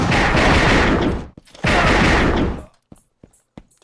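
Two loud bursts of automatic gunfire from the first-person shooter game AssaultCube, each lasting over a second, followed by a few short, sharp shot-like pops.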